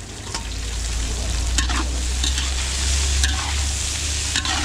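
Garlic and onion sautéing in a large catering pan for a big double celebration in Candaba, Pampanga, a loud steady sizzle with sharp scraping strokes of a stirring utensil.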